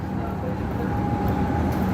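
Melbourne Metro train rumbling at Flinders Street station, a steady low mechanical drone with a sustained tonal hum, close and continuous over two seconds.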